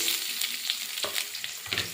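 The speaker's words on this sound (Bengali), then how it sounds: "পেঁয়াজটা ভাজা ভাজা করে নিয়েছি এইভাবে" Chopped onions fry in hot oil in a karahi with a dense, continuous crackling sizzle, close and steady, with light stirring scrapes throughout.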